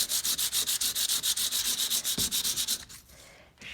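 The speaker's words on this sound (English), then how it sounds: "I sand in different directions so that it gets all the" White core cardstock sanded by hand with light strokes in different directions, producing a fast, even rhythm of close scratchy rubs that stops after a few seconds.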